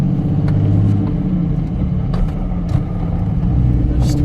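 A car engine in low gear gives a steady, loud, close rumble from inside the cabin, with a few faint knocks and clicks over the drone.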